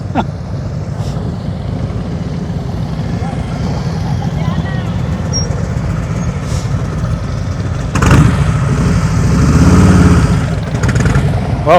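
A motorcycle engine idles and putters during slow-speed riding practice, with throttle rising and easing as the rider feathers it, while people talk around it.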